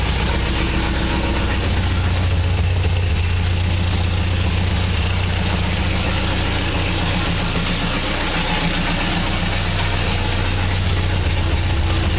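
A 1960 Triumph TR3A sports car engine runs steadily after restoration, a loud, close, continuous rumbling idle with a rough, throbbing low end throughout and no talk.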